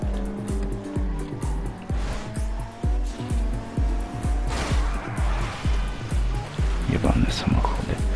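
Cars driving in traffic in the video game GTA V, with steady engine drone, passing vehicles and occasional tire squeals in a continuous, fairly loud mix.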